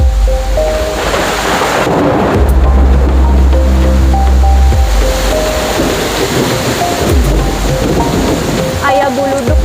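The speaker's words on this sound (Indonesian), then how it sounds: "Jadi kita sementara berteduh dulu di sini sampai menunggu hujannya reda." Heavy afternoon rain pours down at Gunung Kawi in Gianyar, Bali, a loud continuous roar of wash and hiss with deep rumbling swells throughout and no voices.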